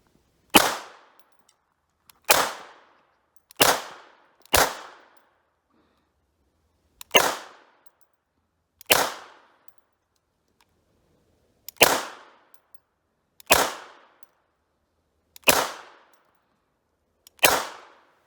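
Ten single shots from a Hi-Point CF380 pistol at a shooting range, each a sharp close crack with a quick decay, spaced irregularly over a near-silent background with no talking.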